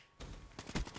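Gunfire in Black Ops 3 hardcore mode, a quick burst of several loud, close shots in rapid succession after a brief quiet start.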